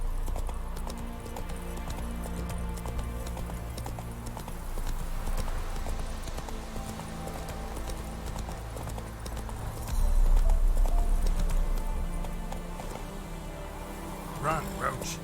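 Hooves of the horse Roach clip-clop at a steady galloping rhythm in The Witcher 3, under game music with a brief louder swell partway through.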